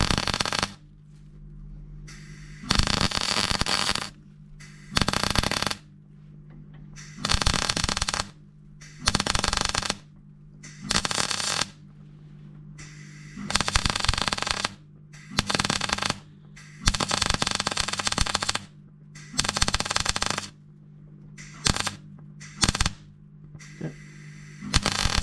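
Repeated bursts of MIG welding on the left-hand sill of a Range Rover Classic, crackling spells of one to two seconds broken by short pauses under a steady low hum, close and loud, with no talk.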